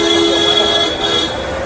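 Street traffic in the Dharavi area of Mumbai forms a dense, loud roar, with car horns blaring steadily through the continuous engine noise.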